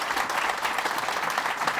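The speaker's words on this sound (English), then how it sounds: "Applaud them." An audience at a book launch claps together, a brief, dense burst of steady applause from a room full of people, moderately loud and sustained without pause.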